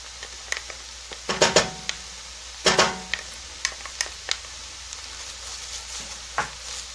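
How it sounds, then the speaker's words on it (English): Garlic and cabbage sauté in a pan with a steady close sizzle, punctuated by scraping stirs and clattering utensil strokes. "So we're gonna let this saute down."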